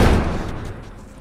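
Heavy door being barricaded and slammed in The Last of Us, a dense loud thud-like crash right at the start that rumbles and slowly fades over a second, with no voices.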